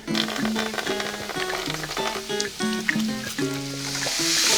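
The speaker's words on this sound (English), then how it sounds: "After I add it into the pan, I'm going to continue breaking it apart with wooden spatulas or spoons" Meat sizzles in a hot pan while wooden spatulas break it apart; the frying hiss sits beneath a prominent tuneful melody of stepping notes, growing brighter and louder toward the end.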